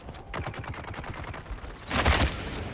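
Sniper gunfire in the video game Dune: Awakening, a burst of sharp shots with a loud, heavier impact near the end, close and without talk.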